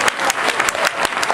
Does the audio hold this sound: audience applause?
yes